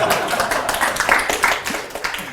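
Audience clapping at a tech talk on building an AI doc search, a scattered, uneven patter of hand claps at close range with no voices over it.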